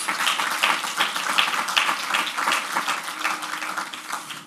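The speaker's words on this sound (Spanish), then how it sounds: "Dale un aplauso al rey" A church congregation applauds during a Spanish-language sermon on anxiety, giving a steady wash of clapping that holds at an even level from start to finish with no voice over it.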